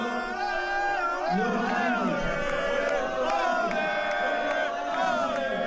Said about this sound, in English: this is the crowd going at it with Khabib